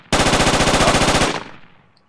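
Sustained automatic rifle fire from the military shooter game Project Reality, a dense loud rapid burst of shots lasting over a second, then a fading echoing tail.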